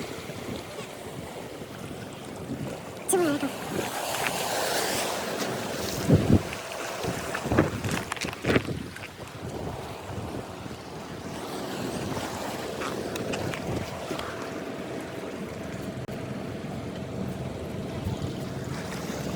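Sea waves surging against Vengurla harbour in the Konkan, a continuous wash of surf and strong wind buffeting the microphone, with a few sharper knocks and a voice briefly in the mix.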